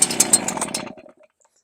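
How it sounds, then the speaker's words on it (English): A STIHL BR450 backpack leaf blower engine sputters and buzzes briefly after a pull-start on choke, rattling loudly for under a second before dying away into silence. "I'm going to turn the choke to on, and I'm going to give it a pull."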